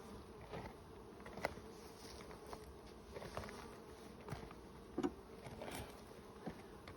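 Honeybees buzz in a hive, forming a steady close drone with scattered louder passes and faint patter of bees moving, no talking.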